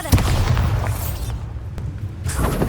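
A booming spell blast from the Bombarda charm in the Hogwarts Legacy video game, loud and dense with rumbling low end and crackling debris, fading briefly before the noisy battle resumes.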